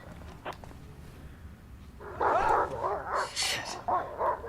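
In the video game Silent Hill: Downpour, a dog barks and yips several times in quick bursts, following a faint quieter stretch.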